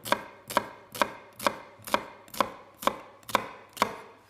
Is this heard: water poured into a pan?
no